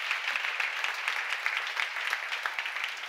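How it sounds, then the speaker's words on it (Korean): Energetic congregation applause at a church seminar on Romans, a close, dense crackle of many hands clapping with slightly rhythmic pulses running for about three seconds. "박수를 하세요"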